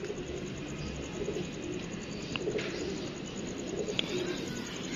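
Soft cooing of a Salara pigeon of Sialkoti stock, faint and low over a steady background hiss, with a couple of brief sharp clicks and no clear talk.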